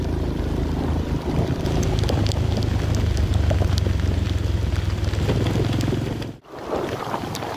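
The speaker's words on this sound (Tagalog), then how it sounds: "Lakas ng ulan." Heavy rain drums steadily on a vehicle driving along a rough, potholed highway in Camarines Sur, with a continuous low road rumble beneath the hiss of water and a brief dropout near the end.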